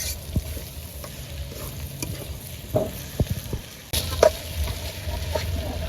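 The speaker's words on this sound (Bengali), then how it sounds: "সবগুলো মশলা কিছুটা ভাজা ভাজা হয়ে গেছে" Onions, garlic, ginger and spices fry in mustard oil for a Bihari chicken dish, giving a soft steady sizzle broken by occasional stirring clicks and scrapes of a spoon in the pan.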